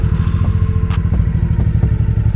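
A 1988 Honda Shadow motorcycle engine idles steadily at close range, with a loud continuous low rumble and repeated small clattering ticks throughout.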